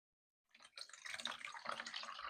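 Liquid trickles slowly from a container in a home herbal-remedy kitchen, a faint, uneven splashing pour that begins abruptly after a moment of silence and continues steadily, with no talking.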